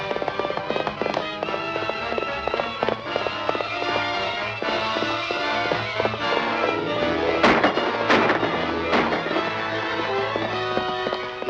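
Staged gunfire from a drama scene as guns open fire: dense, rapid bursts of loud shots crackle almost continuously for several seconds, with a few sharper, heavier blasts near the end.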